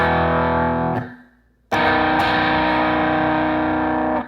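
An electric guitar rings out a heavily distorted chord that fades and is cut off, then a second distorted strum starts and sustains loudly, with no talking, during a beginner lesson on a song.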